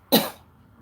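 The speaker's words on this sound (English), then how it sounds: "I'm just trying not to cough." A single sharp, close cough bursts out and fades within half a second, followed by quiet room tone.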